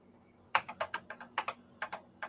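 Typing on an old computer keyboard: a quick run of about a dozen sharp key clicks in an uneven rhythm, close and fairly quiet, with no talking.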